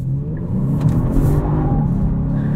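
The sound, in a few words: Genesis G70 3.3T AWD driving hard in Sport Plus mode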